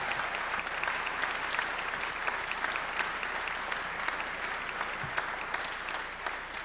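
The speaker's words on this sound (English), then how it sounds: "So how about a big hand of applause for all our fellow directors." Applause from a concert audience saluting the directors at a band send-off concert, a steady dense wash of clapping throughout at moderate distance, with no talk over it.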